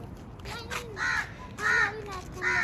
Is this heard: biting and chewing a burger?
no